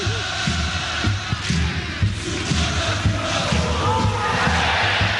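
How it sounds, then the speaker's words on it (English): Football crowd chanting in the stadium at Bali during an AFC Cup 2020 match, a loud, continuous roar of many voices with a regular rhythmic pulse of drumbeats or stamps, with commentary speech on top. "It's my first chance to listen to the rendition of the crowd here at Bali."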